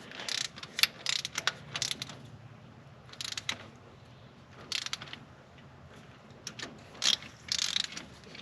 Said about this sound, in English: we'll torque the intake manifold to 22 foot-pounds.